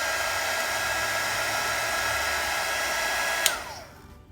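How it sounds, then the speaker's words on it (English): A heat gun blowing hot air to dry watercolour paint, a steady loud whirring rush that clicks off near the end and winds down. "Or if you have a heat tool, this is a heat gun that I got online"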